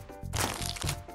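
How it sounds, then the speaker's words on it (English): A short burst of crunching, like someone biting into crisp food, heard close and fairly loud over a little background noise. "I think I heard someone chewing!"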